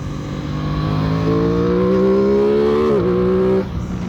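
The small engine of an Aprilia Tuono 660 Factory motorcycle revs up steadily, its intake note rising in pitch, then drops back at the end; close and loud, no talking.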